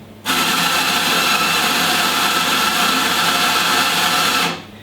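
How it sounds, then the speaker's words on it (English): An espresso grinder at a barista competition grinds coffee automatically into a portafilter, giving a loud, steady, high whirring burst for about four seconds that starts abruptly and winds down at the end, with no talk. "Now once you push it back, it's going to grind automatically."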